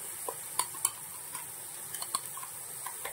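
Tomato masala for an egg curry sizzles softly in a pan as a ground paste is added, a faint steady frying hiss with scattered light clicks and taps from stirring.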